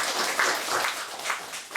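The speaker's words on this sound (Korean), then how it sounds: "하나님께 영광의 박수를." A church congregation at Sunday worship breaks into dense, steady applause, a continuous wash of many hands clapping at moderate loudness throughout.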